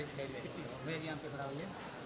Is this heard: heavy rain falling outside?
yes